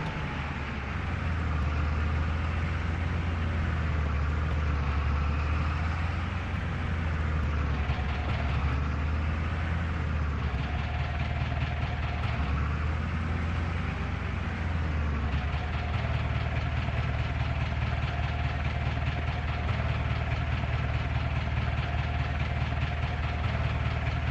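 A tractor engine idles in Farming Simulator 25 with a steady low diesel rumble that runs for the whole stretch, its pitch wavering slightly and its level almost unchanged.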